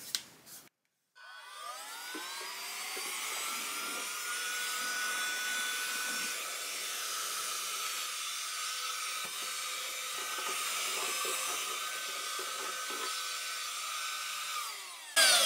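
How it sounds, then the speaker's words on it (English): A combination vacuum and blower tool used in a guitar-kit workshop switches on with a click and runs as a steady, loud whine with a rushing airflow, holding constant before cutting off at the end. "I've got this blower thingy. It's really handy. It sucks. It's got a vacuum and a blower on it, so I can just flip this on"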